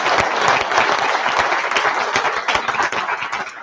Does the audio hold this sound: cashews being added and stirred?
no